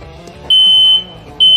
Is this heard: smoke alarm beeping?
yes